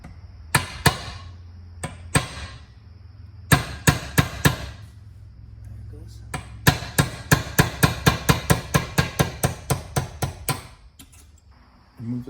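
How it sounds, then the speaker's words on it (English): A hammer strikes metal while driving a pin out of a Toyota Celica 3S-GE engine part, with sharp close blows in clusters, ending in a fast steady run of about a dozen hits. "we're gonna pop this pin out here"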